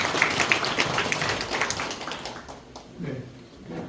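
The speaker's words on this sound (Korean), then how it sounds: "여러분 박수 한번 주십시오" An audience applauds at a provincial council member's report meeting held at the Jeongseon agricultural cooperative, a dense wash of clapping that thins out after a couple of seconds, with a voice briefly audible near the end.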